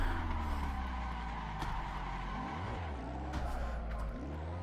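A car drifting in Assetto Corsa, racing sim running a tire mod, its engine droning steadily while tires squeal in sliding, pitch-bending whines across the whole stretch, with no voices.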